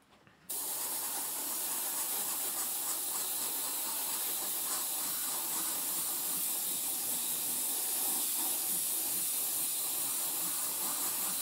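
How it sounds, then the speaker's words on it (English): Vallejo hull red paint sprays onto scale model metal plates in one unbroken, steady hiss that starts abruptly after a brief quiet moment and runs close and even throughout, with no voices. "I'm going to use some hull red from Vallejo also. So let's spray that on."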